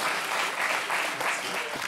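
A studio audience at a French television talk show bursts into dense, steady applause that holds at full strength for the whole stretch, close and lively with no voices over it.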